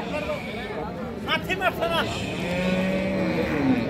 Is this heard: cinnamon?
no